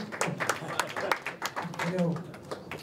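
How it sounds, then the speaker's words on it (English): Audience at a boxing event clapping: scattered, sharp hand claps from the crowd that pop through an announcer's amplified voice, which talks over them the whole time. "Round of applause, come on."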